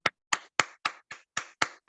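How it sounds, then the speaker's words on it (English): Applause during an online meeting comes as about eight sharp, evenly spaced hand claps, close and fairly quiet, with no other sound between them. "can we unmute and give David a round of applause, please?"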